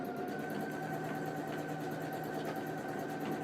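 A sewing machine quilts with its presser foot lowered. It runs as a steady, continuous mechanical hum and rapid stitching whir at moderate level throughout, with no voices.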